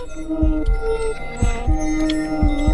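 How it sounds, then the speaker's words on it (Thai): A heartbeat sounds in the horror detective video game Deeper Mind, a steady, low, thudding double beat repeating about once a second over a sustained eerie hum. "ทำไมผมได้ยินเสียงหัวใจตัวเราเต้น"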